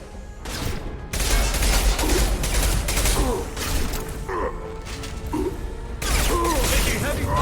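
A heavy firefight in the sci-fi shooter Mass Effect 2 rattles on in long, loud bursts of weapon fire with mechanical clatter, while a voice speaks over the shooting.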